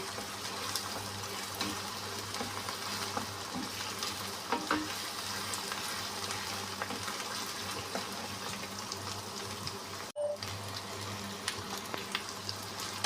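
Chicken frying with broad bean seeds in a pan, a steady close sizzle with occasional stirring scrapes throughout and one brief break near the end.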